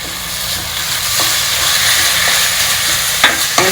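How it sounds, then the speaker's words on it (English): Poha and jaggery mix being stirred in a pan over a low flame for a South Indian puttu prasad, a steady close sizzle with soft scraping and a couple of sharper clinks near the end. "Now we'll add in the poha and jaggery mix to it."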